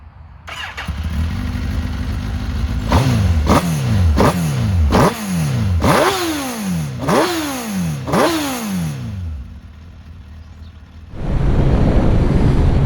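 A Suzuki GSX-R 1000 K5 sport motorcycle engine, loud and close, starting up then idling before a run of repeated sharp throttle blips, each rev snapping high and dropping back, then settling into idle.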